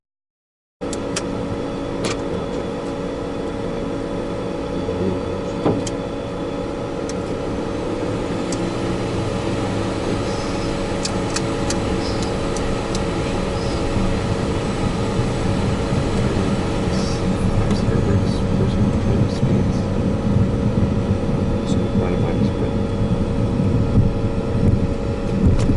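A Dassault Falcon 900 jet takes off from runway 1 at Wilmington, Delaware after maintenance, its engines holding a steady roar with tonal whine that builds gradually over the roll, heard from inside with wind-like rushing beneath.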